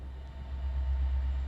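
A train rushes past without slowing, a steady, heavy low rumble that swells slightly as it goes by, with no voices over it.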